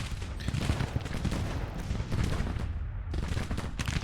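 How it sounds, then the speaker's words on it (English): Cannon and musket fire rolls through a Civil War battle in the strategy game Grand Tactician: The Civil War. The volleys and booms are dense and continuous, with a brief lull near the end before the firing resumes. "These cannons are starting opening up to the detachments."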